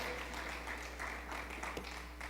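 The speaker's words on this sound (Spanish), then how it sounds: "Dale un aplauso a Jesucristo." A church congregation at a Spanish-language service applauds, the scattered clapping soft and somewhat distant over a low steady hum.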